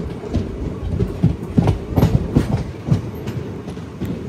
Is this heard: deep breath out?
no